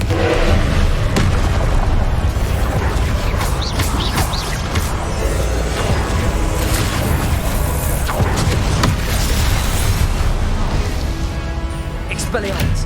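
Confringo blasting spells explode again and again in Hogwarts Legacy, loud booming bursts layered over dense game noise and a voice speaking throughout.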